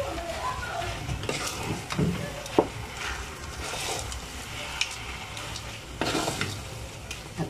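Biko, a coconut sticky rice, is stirred in a cooking pan with thick, continuous scraping and shuffling, and a few sharper knocks of the utensil against the pan.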